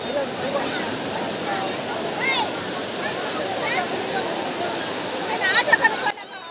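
Sea waves surge and pull back hard on Nellore beach, a broad, constant wash of surf close by with voices talking and calling over it.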